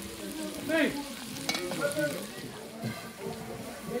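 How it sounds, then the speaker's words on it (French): Small pieces of garlic frying in oil for Mauritian bombli: a steady, close sizzle and crackle with faint stirring, while people talk over it. "on a fait brûler des 3 petits morceaux d'ail aussi dedans"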